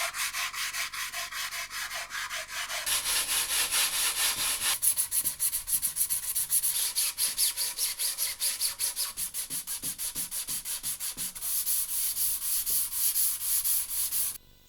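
Hand sanding of a DIY carbon fiber telescope tube, roughly 10 inches in inner diameter, gives steady rhythmic scratchy rubbing strokes. They start softer, then grow louder and brighter and carry on close and continuous without pause.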